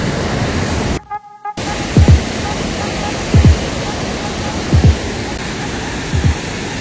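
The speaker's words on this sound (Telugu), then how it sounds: "At last guys this is the water fall." A steady, roaring rush of falling water at Hogenakkal Falls, India, fills the scene, briefly cutting out once, with short chirping sounds repeating every second or so over it.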